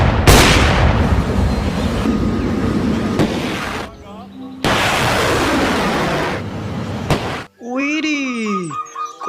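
A toy army tank fires its electronic sound effect, loud crackling bursts of mock gunfire and booms in two long blasts, then sweeping warbling siren tones, played close up.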